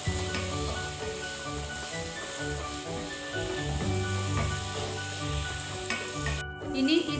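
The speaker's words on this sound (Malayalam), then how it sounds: "ഇനി ഇതിൻ്റെ കൂടെ ഒരു ചെറിയ തക്കാളി ചെറുതാക്കി അരിഞ്ഞു വെച്ചത് ഇട്ട് കൊടുക്കാം. നന്നായിട്ട് മിക്സ് ചെയ്യാം." Chopped tomato being stirred into a frying Kerala-style beef curry makes a constant hiss and sizzle, heard under background music.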